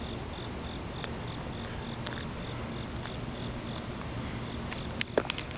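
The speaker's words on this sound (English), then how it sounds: "there are so many bugs out right now attracted to all these lights" Insects chirp at night around a lit parking garage, a steady high-pitched pulsing trill over a constant hum, with a few sharp nearby clicks near the end.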